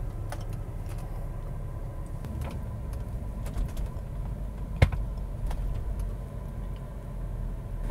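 A car slowly reverses and then pulls forward, its low engine rumble steady and close throughout, with one brief sharp click partway through and no talking.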